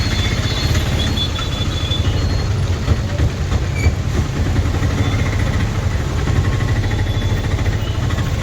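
A train at Coimbatore railway junction rolls past with a loud, steady rumble and constant wheel clatter, while faint squeals and screeches rise over the low drone throughout.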